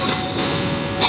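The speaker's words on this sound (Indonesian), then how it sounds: "Cikuray sudah meninggalkan stasiun Cicalengka." The Cikuray train pulls out of Cicalengka station in Indonesia, its wheels squealing loudly against the rails. The steady metallic screech swells near the end over a rumbling background.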